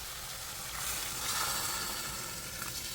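Oxtail meat sizzles steadily as it goes back into a hot pan for a stew, a continuous close crackle with a slight swell in the middle and no voices.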